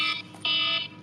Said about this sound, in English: her bloody flipping medicine timer